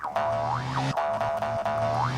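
A springy, wobbling boing effect from a gravity coil jump boost in a video game, repeating in swooping arcs about every second over a steady humming background tone.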